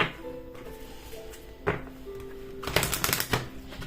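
Tarot cards are shuffled by hand in quiet, close riffling bursts, with a few soft taps and a louder flurry of card slaps near the end.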